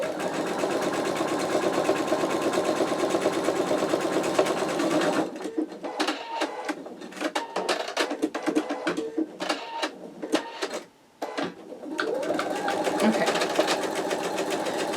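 An embroidery machine stitches an in-the-hoop wallet, a steady rapid mechanical whir that shifts into choppier, stop-start stitching bursts with a brief pause before resuming its even hum.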